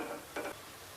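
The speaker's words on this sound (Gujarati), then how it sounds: "હવે આપણે બીજા મુઠિયા પણ તળી લઈશું." Muthiya dough dumplings frying in hot oil: a soft, steady sizzle with a short, louder burst of bubbling near the middle, close by and with no voices.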